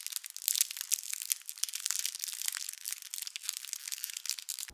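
Cellophane crinkled gently and continuously by hand to imitate a crackling fire, a close, dense run of fine crackles and rustles with no voice over it.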